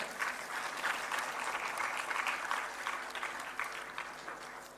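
Audience applause fills an award ceremony honouring meritorious students, with a steady, dense clapping texture that holds at moderate loudness throughout and no talking over it.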